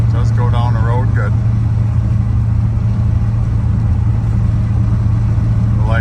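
A 1986 Chevrolet C10 pickup cruising in overdrive at about 65 mph, with a steady low engine drone and road noise holding constant throughout, and someone talking briefly at the start and end.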